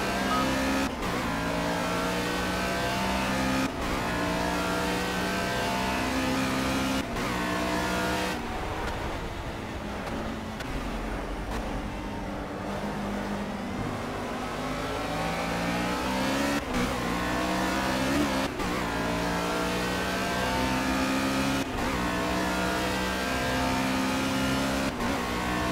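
Caterham race car engine at Silverstone, revving hard and changing pitch through gear shifts, with a short lift and quieter stretch under braking in the middle before pulling strongly again; close, steady and loud with no talk.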